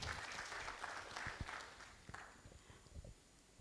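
An audience at a digital rice farming launch event in Jayapura applauds with steady, faint, distant clapping, and a few louder claps and knocks stand out as it fades.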